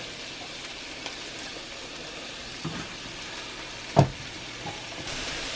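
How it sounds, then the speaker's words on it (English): Bacon and mushrooms cooking in a cast iron pan give a soft, steady sizzle, fairly quiet, broken by a few faint clicks and one sharper knock of a utensil, with no talking. "Alright, my bacon is cooking. Get my mushrooms in."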